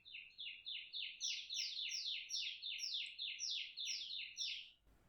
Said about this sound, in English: Please pardon those birds.